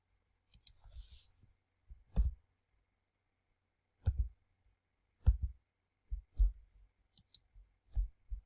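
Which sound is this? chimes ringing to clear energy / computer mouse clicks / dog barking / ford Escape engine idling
computer mouse clicks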